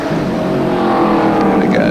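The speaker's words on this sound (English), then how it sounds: "just the raw power of Masterton's big V8 gets him before they've gone a lap" A 1984 AMSCAR race car with a big V8 engine, a loud sustained engine roar that rises in pitch as it accelerates close by on the Amaroo Park circuit.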